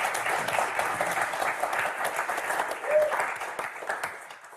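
A studio audience on the French game show Motus claps loudly and steadily, with a host's voice briefly heard over the sustained applause before it begins to fade.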